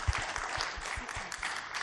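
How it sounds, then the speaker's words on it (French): Conference audience applauding Véronique Buisson after her performance, a short burst of dense clapping from a small crowd, close and lively. "on peut faire une bonne main d'applaudissement à Véronique Buisson pour sa belle"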